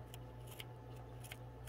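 Scissors trim excess material from a laser-cut dollhouse laundry room kit part, with a few faint, crisp snips at irregular intervals over a steady low hum.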